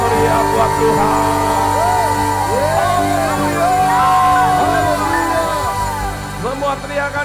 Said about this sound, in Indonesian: Lebih lagi berikan sorak-sorai yang meriah buat Tuhan.